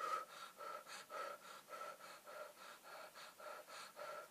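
Rhythmic mouth breathing during a guided meditation, a quick steady series of soft, close breaths repeating roughly every quarter second with no talking.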